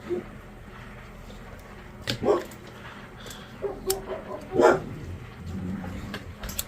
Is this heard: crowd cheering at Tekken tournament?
no